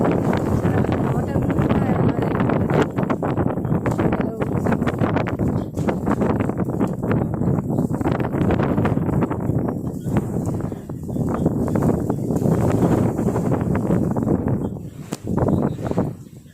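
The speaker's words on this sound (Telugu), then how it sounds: "తుఫాన్ ఎక్కువగా ఉంది, చాలా గాలి, చాలా వర్షం." Cyclone Fengal's strong wind roars continuously into the microphone over a banana plantation, loud and buffeting throughout, with rain noise and a voice speaking under the gusts.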